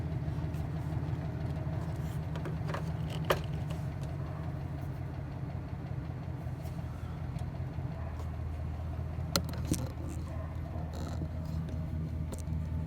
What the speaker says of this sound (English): Okay, truck is on.